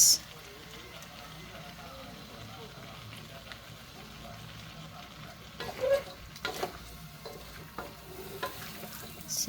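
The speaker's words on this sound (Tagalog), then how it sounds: "So, let's mix it well para maglasa yung mga veggies." Chopped broccoli stalks, florets and carrots for chop suey are stir-fried in a pan, giving a low sizzle with intermittent scraping and tossing that grows louder and choppier toward the end.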